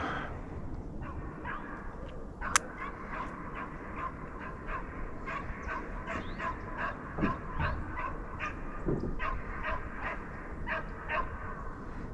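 Hunting dogs bark during a South Carolina deer dog drive, with repeated yips and bays coming in rhythmic bursts from a distance over an outdoor background.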